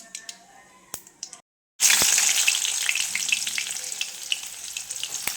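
Onions frying in oil in a pan for a Rayalaseema-style bitter gourd curry, with mustard seeds already in; after a brief silent gap a loud, steady sizzle takes over and runs continuously with crackling bursts.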